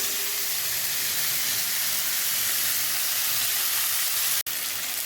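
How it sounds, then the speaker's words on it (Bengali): Sliced ridge gourd and potatoes frying in oil, a steady, dense hiss of sizzling throughout, loud and close, broken by one brief dropout near the end. "এগুলোকে খুব ভালোভাবে একটু ভেজে নেব ঝিঙে আর আলুগুলোকে"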